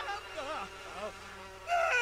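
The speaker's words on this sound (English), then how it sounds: "Oh no, Spud, getting attacked by bees." Bees swarm and attack a Sim in The Sims 4 in a jungle setting, a wavering insect buzz rising and falling in pitch over two seconds, then swelling louder at the end.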